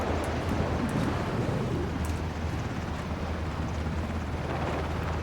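A helicopter in a video game gives a steady, loud rotor and engine rumble that runs unbroken through the whole stretch, with no talking over it.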